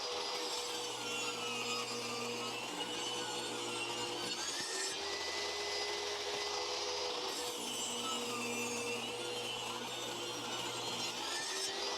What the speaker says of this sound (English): I'll probably do it with the table saw since I've already got it out here